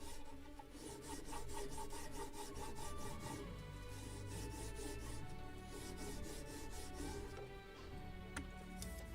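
A thin wooden strip for the gun tracks of a 1776 gunboat Philadelphia model ship is sanded by hand in quick repeated rasping strokes, close and fairly quiet, with no talking.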